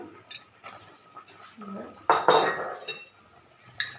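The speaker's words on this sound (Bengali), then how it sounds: "এবার ইলিশ মাছটা দিয়ে দিলাম," Hilsa fish pieces go into a pan for mustard hilsa, giving clattering, clinking contact of metal cookware and utensils, with a louder burst of scraping and sizzle midway and a faint voice underneath.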